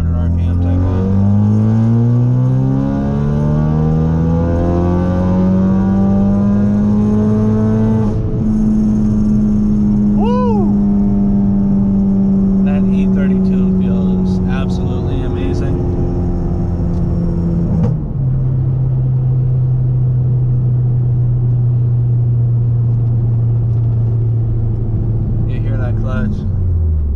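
A 2017 Ford Focus RS running a Stratified E30 tune pulls hard from about 2,500 rpm, its engine note climbing steadily and loudly, then holding a sustained drone with a shift-like dip partway through.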